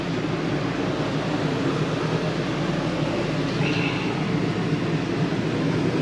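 The air conditioner in a 2019 Jayco Whitehawk 29BH travel trailer runs as a steady, even roar of blowing air that fills the living space without letup.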